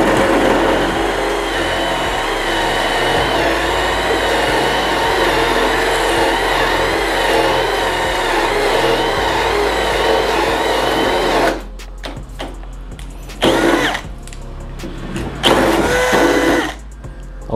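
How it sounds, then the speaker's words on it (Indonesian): A Bosch GSR 185-Li cordless drill bores with a Forstner bit at torque and speed setting 2, running loud and steady for about eleven seconds before breaking into short, uneven bursts with pauses between them. "ini tadi kita sudah coba ngebor dengan mata bor Forstner bit seperti ini ya"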